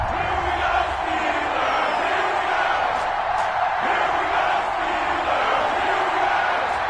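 A packed NFL stadium crowd roars steadily before the Houston Texans face the Pittsburgh Steelers, a dense, loud, continuous wash of cheering and shouting with no breaks.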